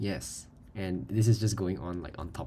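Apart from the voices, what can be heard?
None of the usual background noises is heard.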